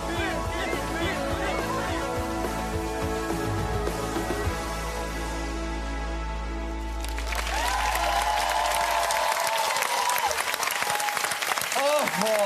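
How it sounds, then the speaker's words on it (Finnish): An audience at a Finnish TV stunt show breaks into loud, sustained clapping and cheering for Birgit's stunt, taking over from a stretch of music and continuing strongly to the end. "Isot aplodit vielä Birgitille."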